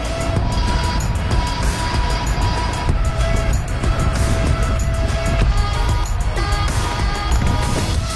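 A car speeds up on a climbing road heading toward Béthémont, its engine note a steady, loud broadband roar with wind and road noise that fills the whole stretch without a break.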